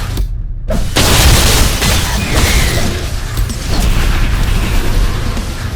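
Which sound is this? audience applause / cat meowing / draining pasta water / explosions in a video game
explosions in a video game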